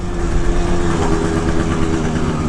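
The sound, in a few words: Honda Zuma scooter engine while riding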